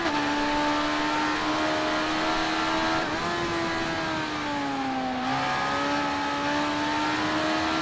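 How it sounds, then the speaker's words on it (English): A motorcycle engine and exhaust from the RIDE 3 racing game drone steadily, with a sustained high revving tone that dips and rises slightly as the bike shifts, loud and alone. "It's good to be back on a normal bike with an exhaust."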